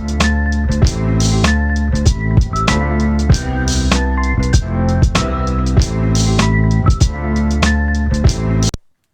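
A sample sequenced on an MPC Live 2 plays back with drums and bass added: a loud, steady looping beat with punchy kicks and snares under a layered melodic sample, ending abruptly.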